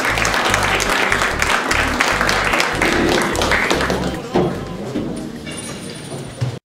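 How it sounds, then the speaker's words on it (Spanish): A crowd applauds at a formal gala dinner, lively clapping under background murmur and talk, tapering toward the end as a voice comes in. "Un aplauso para ella."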